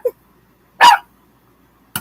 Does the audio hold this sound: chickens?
no